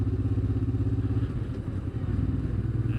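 A 1990s Honda motorcycle on the road, its engine putting out a steady, pulsing mid-pitched drone at close range, alone without talk.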